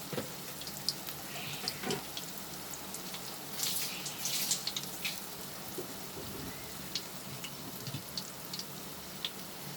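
Eggplant fritters in a coating fry in hot oil, giving a steady close crackling sizzle broken by sharp scattered pops, with no talking.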